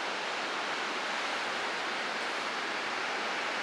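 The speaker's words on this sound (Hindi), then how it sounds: "समंदर की लहरें काफ़ी हैवी वेव्स हैं" Heavy ocean waves rolling in at Gokarna beach in Karnataka, heard from a sea-facing property as a steady, loud wash of surf noise filling the whole clip with no pauses or voices.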